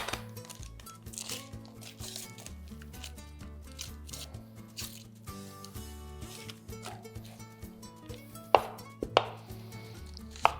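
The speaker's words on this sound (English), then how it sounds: "One white onion. Top and tail, give it a peel." A white onion being trimmed and peeled: soft irregular knife taps and dry papery crinkling of the skin on a board, faint and close, with a few sharper clicks near the end over quiet background music.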